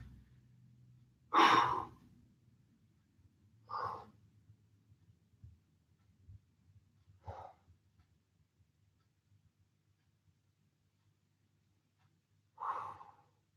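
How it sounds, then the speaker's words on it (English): Slow, deep breaths during a home yoga recovery session: four separate long exhales or sighs spaced several seconds apart, close and quiet over a faint low background hum. "Big, deep breaths. Try and breathe it away, breathe it out."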